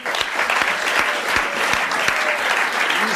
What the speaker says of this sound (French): On l'applaudit. Bravo!